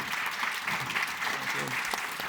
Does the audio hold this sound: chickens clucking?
no